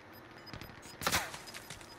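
Suppressed gunfire in Call of Duty Warzone, a few muffled, snapping shots with one sharper burst near the middle, heard at moderate distance against quiet background ambience.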